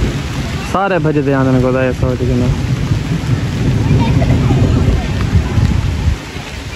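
Heavy outdoor rain falls as a steady roaring downpour with rumbles of thunder, while someone talks loudly over it.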